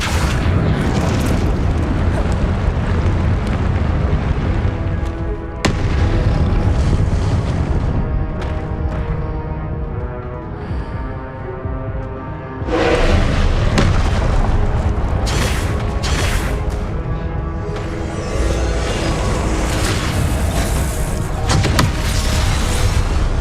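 Confringo spell explosions in the video game Hogwarts Legacy, dense, loud, repeated booming blasts layered over continuous roaring combat noise with sharp bursts throughout.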